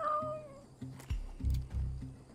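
A person imitates a cat with a few drawn-out, whiny meows in an uneven rhythm, close and moderately loud, over quiet background sound.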